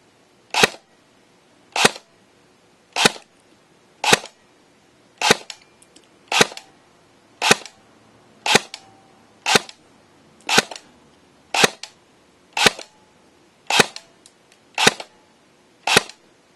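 A VFC SR16 Carbine airsoft rifle with a 14-inch barrel, running on a 9.6 V battery, fires about fourteen crisp, sharp shots at a steady one-per-second pace, each one close and clear against near silence.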